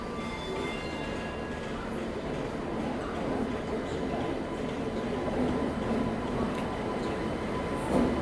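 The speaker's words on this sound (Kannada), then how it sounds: "12007 ಚೆನ್ನೈ ಮೈಸೂರು ಶತಾಬ್ದಿ ಎಕ್ಸ್ಪ್ರೆಸ್ ವಾಯ ಕಟ್ಪಾಡಿ KSR ಸಿಟಿ ಜಂಕ್ಷನ್" The 12007 Chennai–Mysuru Shatabdi Express runs along its line with a continuous rolling rumble and a faint high whine, steady and fairly loud throughout.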